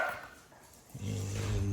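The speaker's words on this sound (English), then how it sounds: "And that's the dog barking." A dog barks indoors in a single short burst near the end of the clip, after a quiet stretch of room tone, with no talking.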